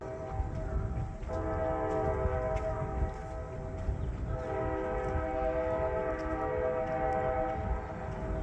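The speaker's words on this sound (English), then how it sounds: "The train is a beckoning." On a city street, a train rolls past with a steady mechanical rumble under a long, sustained horn blast that holds across the whole stretch, fairly distant, with no talking.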